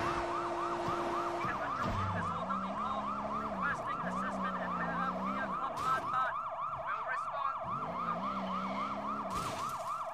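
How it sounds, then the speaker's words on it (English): A police car siren in the video game Sleeping Dogs wails in a fast, steady up-and-down cycle throughout, loud and continuous over low engine rumble. "cop siren has absolutely no meaning in this game"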